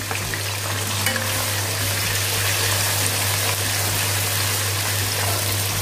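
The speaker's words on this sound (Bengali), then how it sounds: "আমি এই মিক্সি জারে অল্প একটু জল দিয়ে পুরোটা ধুয়ে দিয়ে দিলাম।" Water rinsed from a mixer jar is poured into a hot cooking pan of spice paste for a catfish curry, producing a loud, continuous hissing sizzle with no pauses.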